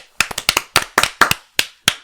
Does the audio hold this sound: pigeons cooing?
no